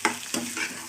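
Grated coconut is stir-roasted in a pan for a moong dal and sago payasam, giving a short burst of close, dry sizzling with a couple of stirring scrapes.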